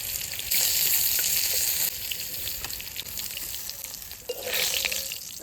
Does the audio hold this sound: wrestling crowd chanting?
no